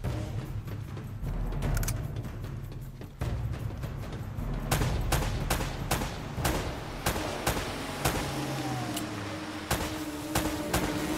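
Gunfire rings out in the video game Uncharted: Drake's Fortune as sharp, repeated shots and bursts crack over a steady low game rumble, irregular and fairly loud, with no talking.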